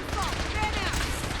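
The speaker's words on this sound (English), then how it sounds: "Stop shooting me." Rapid gunfire from the video game Fallout 4 in Survival Mode crackles in a dense burst under a murmuring voice, steady and fairly loud for its brief length.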